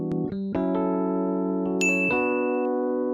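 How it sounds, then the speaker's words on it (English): A tonal synth sample run through the Wolf compressor plugin for a degraded vintage lo-fi character, sustained chord notes stepping through changes with a brief high bell-like tone, steady and alone. "It really just degrades the quality of the sound, makes it sound vintage and lo-fi."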